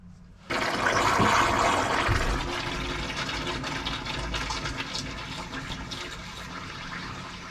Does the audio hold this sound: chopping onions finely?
no